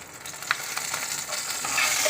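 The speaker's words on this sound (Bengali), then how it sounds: "এখানে আমি প্রথমে প্যানের মধ্যে তেল দিয়েছি এবং জিরা ফোড়ন দিয়েছি, দিয়ে কয়েকটা কাঁচামরিচ দিয়েছি" Cumin seeds and green chillies frying in hot oil in a pan give a steady close sizzle with soft crackles and occasional stirring clinks, no voices present.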